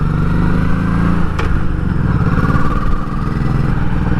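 A motorcycle cruising on an Iowa road, its engine droning loud and steady up close with wind rush throughout and a brief clatter partway through.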